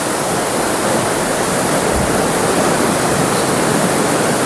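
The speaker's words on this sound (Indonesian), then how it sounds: "menghitung jumlah ombak yang masuk ke gua ini" Sea waves surge into a rock cave, a loud, unbroken roaring wash of water that fills the whole span with no voices.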